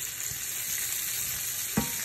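Seafood pasta ingredients sizzling in a pan with salt and pepper, a steady bright hiss throughout with a short scrape or stir near the end and no voices.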